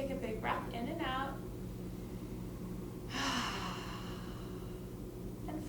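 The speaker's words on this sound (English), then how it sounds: "Take a big breath in and out." A deep breath during a children's yoga and mindfulness session: a slow, audible inhale, a pause, then a long breathy exhale, close and soft against a quiet room hum.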